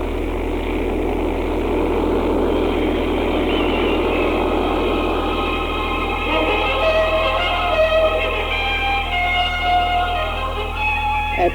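Charles Lindbergh's single-engine propeller airplane drones steadily and loudly throughout, a continuous engine roar with a low propeller throb and no talking, in a dramatized flight after takeoff from San Diego.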